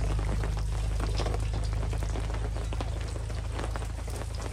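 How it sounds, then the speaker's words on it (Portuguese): Heavy rain pours down in a dense, steady hiss with constant pattering on surfaces, loud and close, along with a low continuous hum and no voices. "Não, tá chovendo demais."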